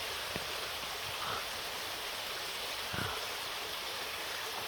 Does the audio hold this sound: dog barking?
no